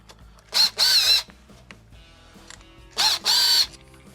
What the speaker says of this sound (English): It is held on by 2 1/4 inch screws. So let's remove these.